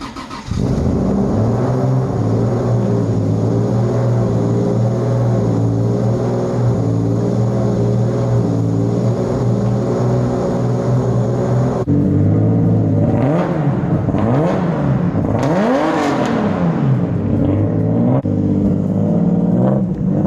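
A 2JZ-swapped FRS on street tires runs with a loud, steady engine drone, then revs and pulls away in rising and falling sweeps during the second half, close and without talk.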